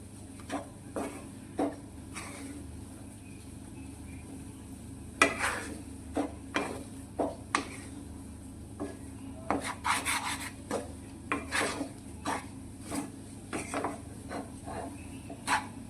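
Milk being worked into moong dal flour in a bowl for instant barfi, a quiet scene of intermittent rubbing and scraping strokes of a utensil, in irregular bursts over a low background hum.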